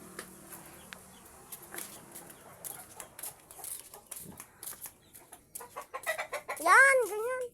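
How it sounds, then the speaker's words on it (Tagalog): A rooster clucks in irregular bursts outdoors, the calls growing louder and more insistent toward the end, with faint background noise between them. "Meron silang tandang dito guys."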